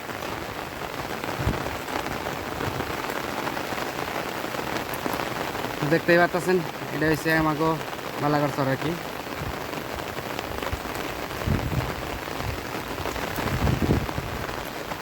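Heavy rain pours in a steady, dense hiss outdoors near flowering trees and a full river, with a person talking over it throughout.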